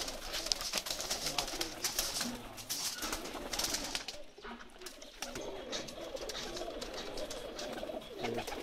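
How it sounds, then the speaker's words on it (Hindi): Pakistani pigeons coo continuously in a flock, soft rolling calls layered over one another at moderate distance, with no pauses through the stretch. "सब जेठ वाले कबूतर"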